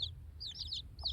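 A hen clucks softly near newly hatched chicks, whose high thin peeps come in short bursts around her, heard up close in a small backyard pen.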